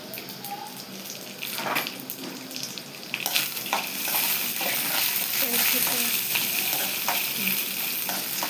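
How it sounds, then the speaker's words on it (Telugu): Dried red chillies and coriander seeds fry in a pan, crackling and sizzling steadily while a spoon scrapes and stirs them at irregular moments. "ఎండుమిర్చి వేసుకొని ధనియాలు ఫ్రై చేసుకోవాలి ఫ్రెండ్స్."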